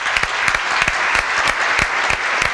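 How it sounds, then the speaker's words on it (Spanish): A studio audience claps steadily after a live song on a Friday television programme, a dense, even wash of many hands with sharper individual claps poking through, close and continuous throughout. "Fuerte, fuerte el aplauso."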